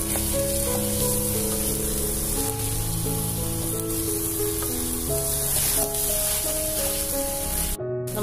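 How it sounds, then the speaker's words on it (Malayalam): Onions and potato frying in a pan and being mixed for beef cutlets: a loud, dense, unbroken sizzle with steady hiss and a faint low hum beneath, cutting off abruptly at the end. "നമ്മുടെ സബോള വഴുന്നു. നമുക്ക് ഇതിലേക്ക് കിഴങ്ങ് ചേർക്കാം. നന്നായിട്ടൊന്ന് മിക്സ് ചെയ്തെടുക്കാം."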